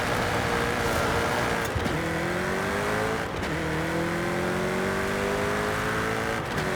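A European car in Forza Horizon 5, painted body with black roof and black wheels, revs hard and climbs through several gear changes with brief dips between shifts, loud and close with no talk.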